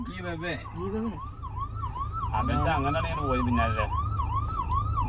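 An ambulance siren wails up and down repeatedly, loud and close, over traffic rumble while a person talks briefly.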